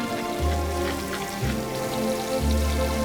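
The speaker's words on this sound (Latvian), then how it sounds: "Uz vienas pannas apcepšu trusi, uz otras apcepšu dārzeņus." Rabbit in one hot pan and vegetables in another fry in olive oil, giving a steady, close crackling sizzle that runs the whole time over a low hum, with no talking.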